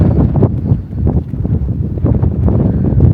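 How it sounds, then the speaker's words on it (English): Strong gusts buffet the microphone, producing a continuous low roaring rumble with irregular bursts throughout. "It's very windy"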